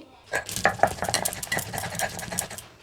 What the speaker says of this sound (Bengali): এটা মিক্সিতেও হয়, তবে আমি শিলেই বাটছি।